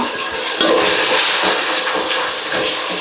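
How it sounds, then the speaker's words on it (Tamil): Onions and tomatoes sauté in a hot pan, giving a loud, steady steamy hiss and sizzle that runs continuously from start to finish, close up and alone without any talk. "இப்போ தக்காளி சேர்த்துக்கிறேன். இப்போ இது ரெண்டும் நல்லா வதங்கணும்."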